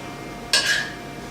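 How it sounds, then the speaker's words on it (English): A tablespoon scrapes and clinks once against a dish while scooping ham onto mini pizzas, a brief close metallic scrape in a quiet kitchen. "I'm going to take another tablespoon of ham and put it on all"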